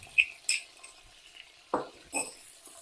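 A spoon scrapes and clinks against a cooking pot while garlic ginger paste is stirred, in a few separate sharp knocks and short scraping strokes with quiet gaps between them and no talking.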